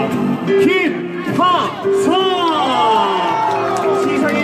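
A crowd cheers and whoops loudly and without a break at a baseball player-of-the-game ceremony after a game against KIA. Shouted voices rise and fall through the noise.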